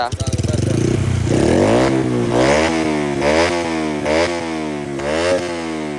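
Honda Dream motorcycle with a racing exhaust pipe and upgraded cam revs hard and loud, the engine note rising and falling in repeated close bursts with a throaty buzzing rasp.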